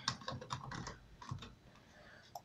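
Computer keyboard keys clatter in a quick run of soft clicks as a name is typed into a Skype sign-up form, then thin out to a few scattered taps, close and fairly quiet with no talk.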